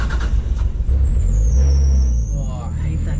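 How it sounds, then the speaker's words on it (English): Car engine idling with loose power steering and alternator belts squealing, a high thin whine drifting over a steady low engine rumble, close and loud throughout. "I need to tighten down the power steering belt and the alternator belt because they squeak."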